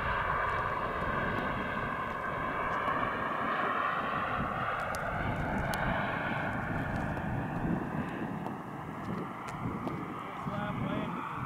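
A Global Jet Club T-45 turbine RC jet comes in to land with full flaps, its steady turbine whine and rushing air droning continuously at moderate distance under a voice.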